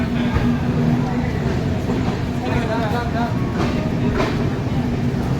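A moving Kamakhya–Delhi Brahmaputra Mail train gives a steady, loud rumble throughout, with low rolling noise and faint rhythmic clatter from the carriages.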